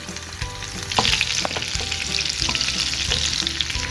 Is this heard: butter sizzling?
yes